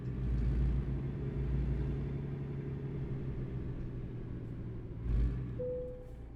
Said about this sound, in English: I think this is a C18 Caterpillar engine.